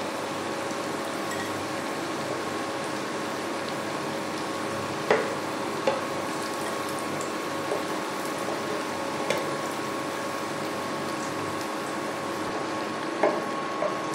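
Cabbage pakora fritters frying in hot oil give a steady, even sizzle, with a few faint clicks of a utensil now and then and no voices.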